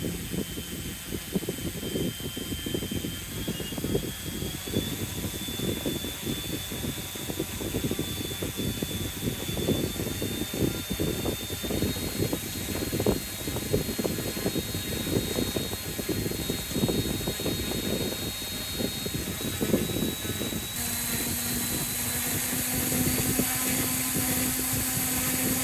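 A small RC2211 or RC2212 brushless RC motor spins steadily at high speed under test, giving a continuous close-up whine and buzz, with the pitch stepping up partway through as the throttle is raised.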